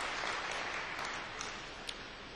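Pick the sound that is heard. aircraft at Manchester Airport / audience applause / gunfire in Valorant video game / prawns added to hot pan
audience applause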